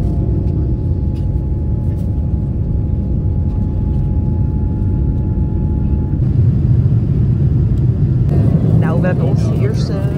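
Inside a passenger airplane cabin on a flight to Orlando, a loud, steady low rumble fills the whole stretch, with people talking over it.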